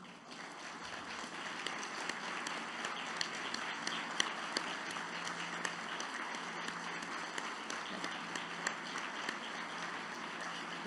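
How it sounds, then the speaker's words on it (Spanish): Audience applause at a Mexican political campaign event, fairly faint and distant, a steady wash of clapping with a few sharper claps standing out. "les pido se pongan de pie y les pido un aplauso para ellos"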